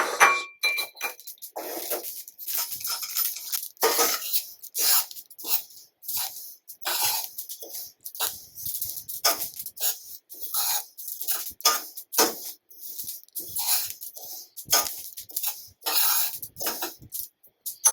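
Sesame seeds toasting in a hot pan make a scattered run of sharp crackles and pops with gaps of quiet between them, fairly close and steady for the whole stretch, with no talking.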